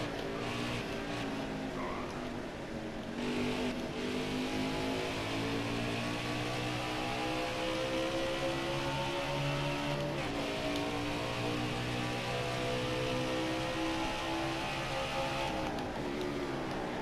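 A NASCAR Heat 5 stock car engine drones at high revs around the Charlotte Roval, a loud sustained harmonic whine that dips briefly under braking and climbs again through gear changes, with no talking.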